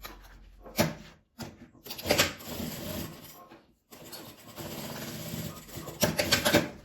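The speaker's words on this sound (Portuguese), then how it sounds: "Que agora eu vou passar uma costura daqui até aqui e daqui até aqui." A sewing machine stitches a gift box made from a milk carton and clear 30-gauge plastic sheet with polyester thread, in bursts of fast, rough mechanical whirring broken by short pauses.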